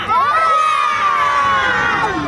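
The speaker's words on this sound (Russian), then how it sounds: "А теперь все улыбнулись и крикнули «Ура!»" Schoolchildren of a first-grade class shout a loud, sustained group cheer of hooray together at a first-day-of-school celebration, close and bright, filling the whole moment.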